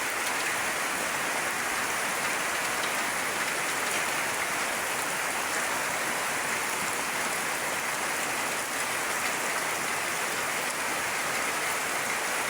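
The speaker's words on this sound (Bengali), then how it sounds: "প্রচুর বৃষ্টি প্রচুর বৃষ্টি প্রচুর বৃষ্টি হইতেছে" Heavy rain pours steadily throughout, a dense, loud broadband hiss with no breaks and no voices.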